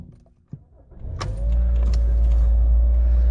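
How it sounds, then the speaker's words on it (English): A Toyota Corolla with about 124,000 km starts up from inside the car: a faint click and door thump, then the starter cranks briefly and the engine catches into a loud, steady, close idle hum. "I'm actually going to turn the car on."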